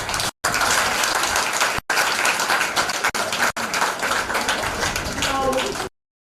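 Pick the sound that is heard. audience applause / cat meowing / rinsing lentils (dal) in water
audience applause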